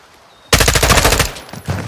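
Automatic gunfire from a rooftop in Call of Duty: Modern Warfare 2 (2022), a loud rapid burst of closely spaced shots breaking in suddenly after quiet, tapering off, then a short final flurry.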